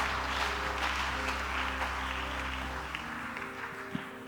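A church congregation applauding for the Lord, a dense, steady wash of clapping over a low sustained hum, fading slightly toward the end with no clear speech.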